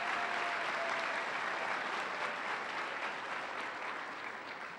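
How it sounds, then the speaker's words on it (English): Warm applause from an award night audience, a broad, continuous roar of clapping from a large crowd, steady and full, tapering gently toward the end. "So my thanks and a nice round of applause for those 3 sponsors for this amazing."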